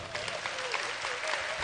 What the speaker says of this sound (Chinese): 谢谢大家掌声